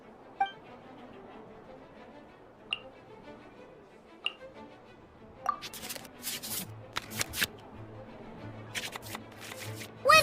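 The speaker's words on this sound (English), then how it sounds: "we can select any number of cards in our hand to shuffle back into the draw pile, and then draw the same number of new cards." Cards are shuffled in the Cat's Tail card game in Genshin Impact, heard as scattered faint ticks and clinks and then a quicker burst of crisp flicks and snaps over a quiet background.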